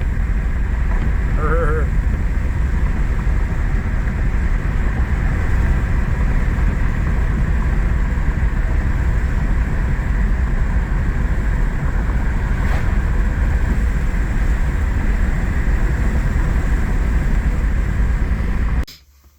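A 1993 S10 Blazer with a freshly installed engine rolls along on a test drive, its constant loud engine and road drone mixed with wind buffeting the microphone, then cutting off abruptly at the end.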